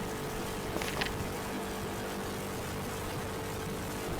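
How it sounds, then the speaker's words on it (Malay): A VF3i motorcycle engine with a spec 68 build runs steadily through the whole stretch, a continuous low drone with a faint whine, heard up close and without any voices. "matlamat kita hari ni kita nak buat running enjin motor sebelum nak ke dyno"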